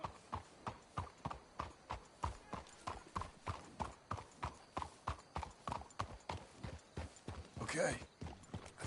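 Horses trotting in Red Dead Redemption 2, a brisk, regular clip-clop of hooves with a brief whinny near the end, while characters talk over the ride.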